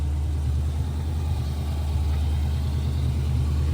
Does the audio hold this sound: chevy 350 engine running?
yes